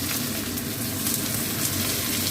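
Chopped onion hits hot oil in a pan while cooking cauliflower manchurian, giving a dense, steady, loud sizzle and crackle that fills the whole moment with no talking.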